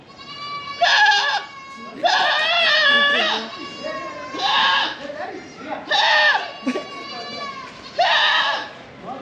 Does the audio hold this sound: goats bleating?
yes